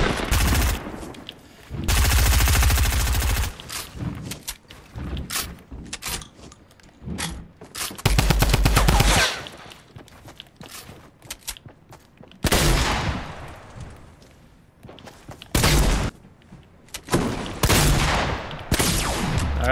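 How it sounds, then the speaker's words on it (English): Bursts of gunfire in Fortnite Battle Royale, several loud blasts and rapid volleys separated by quieter gaps with small clicks and shuffling between shots. "Ah, that stupid shotgun"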